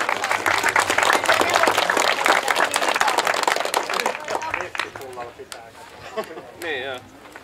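Spectators at a Finnish tractor pulling competition clap in a loud, dense burst that thins out and fades after a few seconds, followed by scattered claps, outdoor noise and a brief voice near the end.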